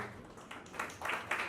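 Brief, faint audience applause at a Bhojpuri-language event, patchy clapping that swells in bursts toward the end.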